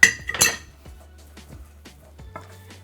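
Softened butter being worked in a bowl with utensils for a pineapple-coconut cake, heard as a few sharp clinks of metal on the bowl at the start, then soft, irregular scraping taps alone.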